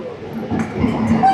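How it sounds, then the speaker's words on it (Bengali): The Kolkata Sairang Express pulls into Krishnanagar City Junction with a brief, fairly loud rumble and rattle of wagons rolling close by. "কলকাতা সায়রাং এক্সপ্রেস এই মুহূর্তে কৃষ্ণনগর সিটি জংশন এসে পৌঁছালো 10 মিনিট লেটে।"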